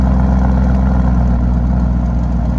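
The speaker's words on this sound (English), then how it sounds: "Corsa mode, the exhaust changed all the way. It amps up." A 2021 Lamborghini Urus exhaust in Corsa mode gives a steady, loud, deep engine drone at close range, holding an even idle-like rumble without voices.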